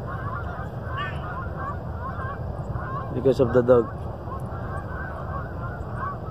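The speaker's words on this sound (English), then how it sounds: "those are the geese are flying, aren't they?" A flock of geese honks in a short burst of several calls as they fly off in a park, heard over steady outdoor background noise, with a person talking faintly nearby.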